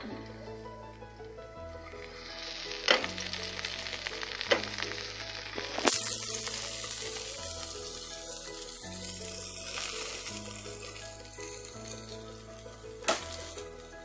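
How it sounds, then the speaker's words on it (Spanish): A tortilla toasting beside mashed refried beans frying in a pan, giving a soft, steady sizzle with light stirring and clinks at a breakfast stove, fairly quiet and continuous throughout. "Aquí tenemos una tortilla calentando, tostando. Ahí tenemos ya los frijolitos fritos, ya machacados."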